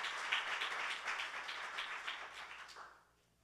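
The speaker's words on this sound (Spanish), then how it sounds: "Dale fuerte el aplauso en casa y aquí." Church congregation applauding, a lively crowd of clapping hands that stays steady for a few seconds and then fades away toward the end.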